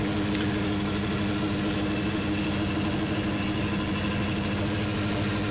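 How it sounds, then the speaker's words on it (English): A Schlüter tractor engine in Farming Simulator 2013 runs with manure-handling equipment, giving a loud, steady mechanical drone that fills the whole stretch with no talk over it. "you can actually hear the Schluter's engine change pitch"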